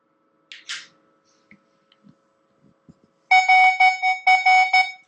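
Nokta Makro Legend metal detector sounding a target ID tone, a loud repeated electronic beeping in bursts that starts after a few quiet seconds of faint handling clicks.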